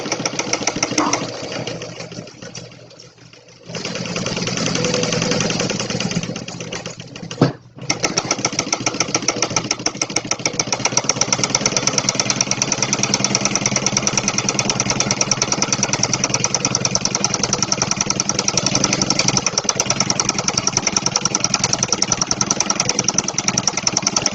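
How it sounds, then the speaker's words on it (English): A sewing machine stitches a quarter-inch seam around a small fabric wallet, running in a fast, steady mechanical hum with rapid ticking, then pausing briefly before a long continuous run. "we're going to go ahead and do 1/4 inch and sew all the way around"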